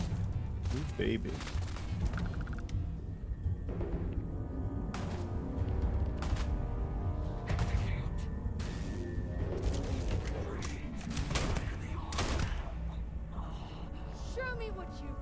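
Pistol gunfire in the video game Starfield, repeated sharp shots and bursts mixed with game effects and a constant background score, under a player's talk.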